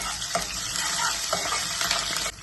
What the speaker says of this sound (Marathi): तेल छान गरम झाले घालूया मोहरी आणि आता घालते कढीपत्ता आणि हिरवी मिरची